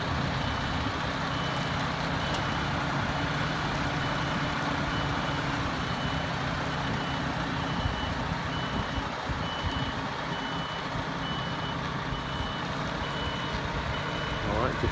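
A Category C+E articulated truck reverses into a bay, its reversing alarm beeping steadily over a continuous diesel engine rumble throughout.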